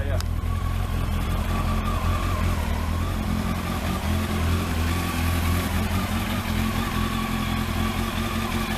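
Kawasaki ZX12R motorcycle engine running after a clutch install, a loud steady close-up idle drone throughout, with voices talking over it.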